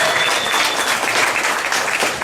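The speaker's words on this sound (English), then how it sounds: "Let's give a big round of applause." A theme-park studio audience at Hollywood Studios in Florida bursts into sustained applause after a physical-effects scene demonstration, a dense, loud wash of clapping that holds steady throughout.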